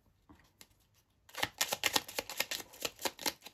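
Tarot cards shuffled by hand, a few soft taps at first, then a dense run of quick, crisp riffling flicks in a steady rhythm, close up and with no talk.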